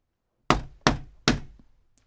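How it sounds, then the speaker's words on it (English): Three firm knocks on a shop door, evenly spaced and close, each a sharp hollow thud with a short ring-out, then a faint tap after them. "he knocked on the shop door"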